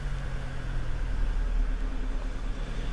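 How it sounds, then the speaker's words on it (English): A passing bus or van rumbles by outdoors, a steady low engine drone with broadband road noise holding at moderate level throughout, no voices. "So there's a bus just going past,"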